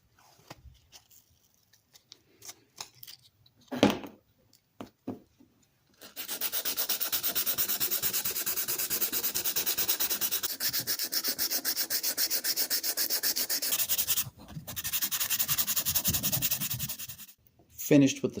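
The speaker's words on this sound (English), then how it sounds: "See if we could sand some of it up." Scratched plastic being hand sanded with 600 grit sandpaper: a few short scrapes, then long steady rasping strokes that run for about ten seconds, pause briefly, and resume close and clear.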